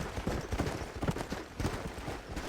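Rapid, rhythmic hoofbeats of a horse galloping in the video game Red Dead Redemption, close and continuous, thudding steadily throughout.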